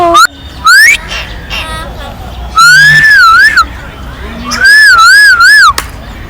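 A talking myna bird at a zoo in Kathmandu gives loud, piercing whistles in several separate bursts, some rising and some warbling up and down, with short pauses and background chatter between calls.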